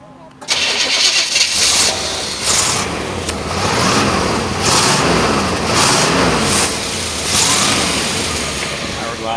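A 1965 Chevrolet Parisienne Custom Sport with a 283 V8 and Powerglide transmission cranks and fires, then settles into a loud, steady idle. The engine is close by and runs continuously, and a voice can be heard over it.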